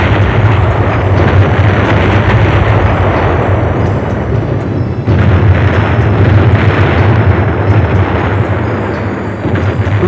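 Loud, continuous rumbling blasts from live-fire Navy SEAL training roll on for ten seconds, a dense roar of explosions with a deep low end and no clear pauses.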